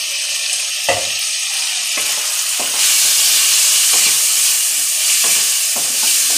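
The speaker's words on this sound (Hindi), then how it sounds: "अच्छी तरह भून लूंगी।" Chicken tikka pieces with black pepper and garam masala frying steadily in a hot pan, a continuous loud sizzle broken by several sharp stirring scrapes, with no talking.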